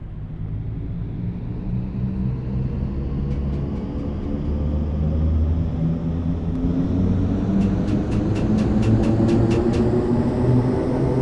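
A Bakerloo Line train departing in Train Sim World 2 gives a steady low rumble and hum that slowly builds, with a faint whine rising in pitch and a brief run of rhythmic ticks partway through.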